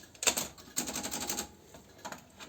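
Keys clack on an Olympia manual typewriter in quick, uneven bursts of sharp mechanical strikes, close and fairly loud, with short pauses between the runs.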